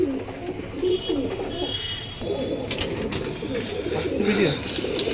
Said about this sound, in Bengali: পায়রাগুলো খুব সুন্দর সুন্দর পায়রা আছে